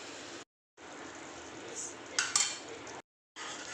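Spices with turmeric and salt are stirred and sautéed in oil in a pan for a potato and capsicum curry, producing a soft continuous sizzle with clinks and scrapes of a utensil against metal, broken by brief pauses.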